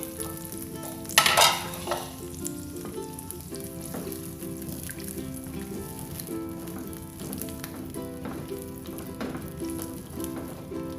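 White gourd for sayur lodeh fries in a pan with green chilies, giving a steady close sizzle throughout and a loud burst of stirring clatter near the start.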